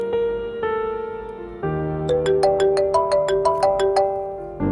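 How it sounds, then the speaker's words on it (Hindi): A mobile phone ringtone plays a melodic electronic tune of rising and falling notes, with a quick series of repeated chiming tones in the middle, clear and close in an indoor drama scene with no talking. "फोन तो उठा लें, क्या पता कोई इमरजेंसी हो।"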